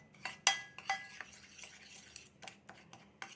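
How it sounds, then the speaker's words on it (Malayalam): Masala for a crispy chicken fry is mixed in a bowl. A spoon clinks and scrapes against the bowl in irregular bursts, with a couple of sharper metallic taps and quiet gaps between them. "ഇതെല്ലാം കൂടെ ഒന്ന് നല്ലപോലെ ഒന്ന് മിക്സ് ചെയ്യുക."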